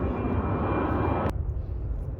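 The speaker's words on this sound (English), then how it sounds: "we have another plane coming overhead and it is super annoying" Airplane passing overhead during a September hedgehog mushroom hunt outdoors, a steady loud broadband engine roar that drops suddenly partway through to a lower rumble, with no one talking.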